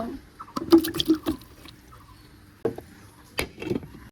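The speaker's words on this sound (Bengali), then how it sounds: "চলুন বন্ধুরা এবার করলাগুলো সিদ্ধ করে নেব" Water sloshes and drips in a few brief, close splashes as fresh bitter gourds are put to boil in a pot, with quiet pauses between the bursts.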